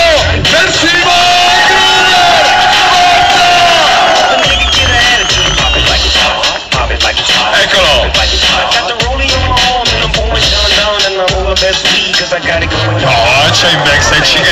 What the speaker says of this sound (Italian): Allora Modena, proviamo a fare un applauso per Simon.